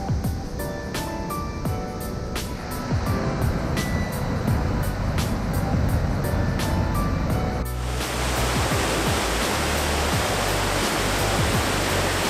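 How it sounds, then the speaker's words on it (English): Broadband rushing water from the York River at Egan Chutes fills the scene, where the constricted channel runs rough, and the roar swells louder and fuller partway through. "This is the end of Egan Chutes, and the chute is up in there where the channel of the York River becomes really constricted"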